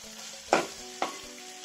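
Fish cutlet mixture being stirred in a frying pan, Kerala style: two sharp scraping stirs with bursts of sizzle over a quiet low hum, close and without talk.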